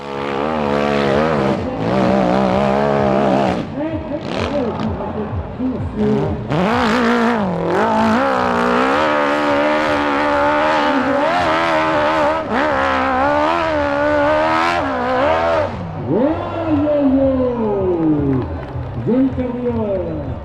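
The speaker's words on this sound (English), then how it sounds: "you'll be able to hear the difference between the V-twins and the 4-cylinder sports bike engines" Racing motorbike engines at a hill climb, V-twins and 4-cylinder sports bikes, roar past one after another, revving hard with rising and falling pitch as they accelerate and shift, loud and close, with talk underneath.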